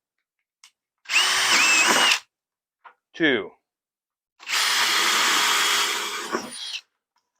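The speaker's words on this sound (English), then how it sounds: "drill holes" A power drill whirs in two loud bursts, drilling holes through a plastic 5-gallon bucket, separated by a short pause with a brief spoken word between.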